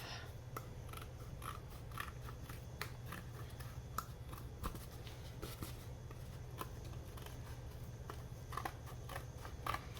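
Scissors trim craft material for a Hobbit-themed wreath, with many small close snips and crisp rustles over a steady low hum, with no talk.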